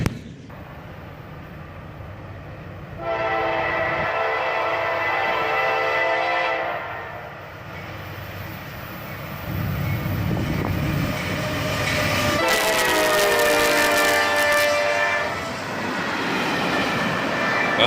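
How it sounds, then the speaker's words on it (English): A CSX auto rack train led by a YN2-painted AC44CW and an ES44AH locomotive moves through a grade crossing on a rainy day, loud rumbling with repeated blasts of the horn and rail noise. "A YN2 AC44CW, and an ES44 ACH. Move this auto rack train through the crossing on a rainy day."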